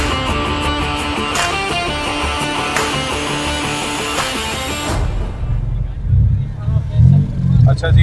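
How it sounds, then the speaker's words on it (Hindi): A boosted Nissan 350Z, built in Karachi with over 400 hp, sounds in a car cabin where people talk over a loud engine drone for about five seconds before it fades into low rumbling road noise. "अब हम ज़रा ड्राइव पे चलेंगे दानियाल के साथ"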